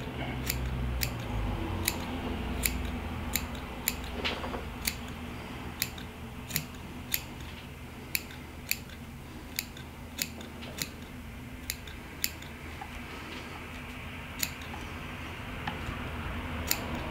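Scissors trimming fly-tying material clamped in a vise for a musky fly: a steady run of sharp, crisp snips, roughly one every second, close up over a low continuous background hum.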